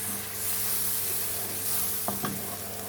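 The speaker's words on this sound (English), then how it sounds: "Give it a mix." A spoon stirs chicken korma with fresh milk in a pan, a steady low sizzle and simmer running throughout with a couple of brief scraping knocks near the end.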